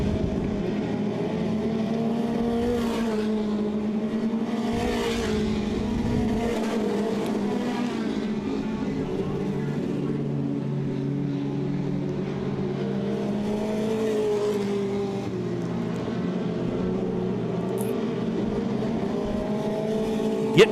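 Several dirt track race cars at a Southern Ontario speedway heat race roar continuously around the oval, engines rising and falling in repeated swells as they pass, loud and steady throughout with no talk.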